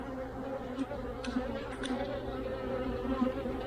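A close, continuous hum of many honey bees buzzing at an open hive, with individual insects droning louder as they pass nearby.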